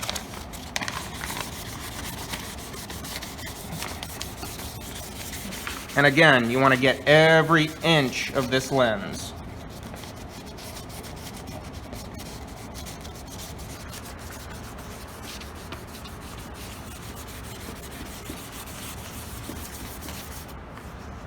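Wet sanding of a car headlight lens with 600 grit sandpaper in an auto shop: a steady, soft rubbing scrape runs throughout, close and fairly quiet, with someone talking over it partway through.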